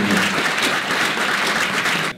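Dense, loud audience applause for the organizers of an evening conference, a full steady roar of clapping that stops abruptly at the end.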